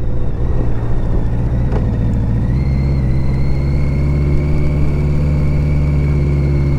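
A BMW K100 motorcycle engine runs steadily close by, a loud continuous low drone with a faint rising whine, holding an even tone throughout with no voices.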